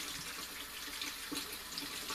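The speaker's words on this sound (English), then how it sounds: "You just keep rinsing it to where that way you don't have the extra salt on it." Corned beef being rinsed under a running kitchen tap, a steady close hiss of flowing water splashing over the meat in the sink throughout, with no talk.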